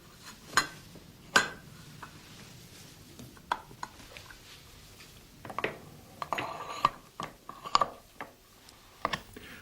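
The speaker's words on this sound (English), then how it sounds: "Rollers joined the lid to the can in a continuous seam." A hand-cranked can sealing machine clanks and ratchets with irregular metallic clicks and knocks, close by, mixed with a soft grinding of rollers seaming lids onto cans.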